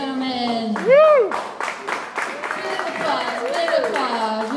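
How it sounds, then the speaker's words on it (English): Clapping and scattered whoops from an audience at a stand-up comedy contest, moderately loud, mixed with a host's excited shouting voice. "Big applause."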